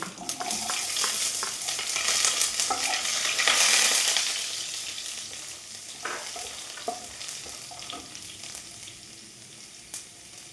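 Hot oil crackles and sizzles steadily with sharp little pops, like mustard seeds spluttering, swelling briefly to a louder burst midway.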